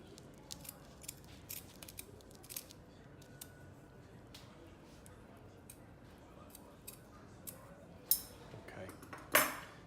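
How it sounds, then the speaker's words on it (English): Scissors snipping off excess strap ends on a finger splint, a few sharp crisp snips near the end over faint handling clicks and rustles in a quiet room. "And we can cut down the excess of our straps."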